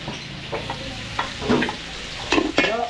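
Beef and onions sauté in a catering pan at a fiesta in Bataan, with a steady sizzle and scraping stirring strokes swelling in louder bursts.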